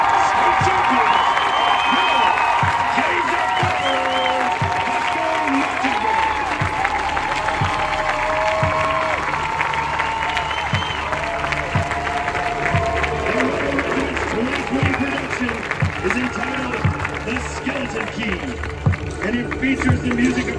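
Crowd at a marching band festival cheering and applauding the 12-time state champion band, sustained clapping and whoops filling the stands while an announcer talks over it.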